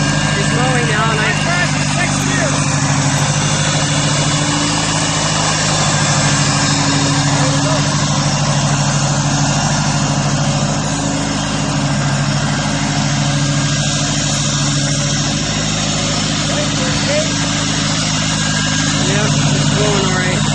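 Steady drone of a Craftsman 19.5 hp garden tractor engine while mowing, loud and continuous without pause, with voices talking faintly underneath.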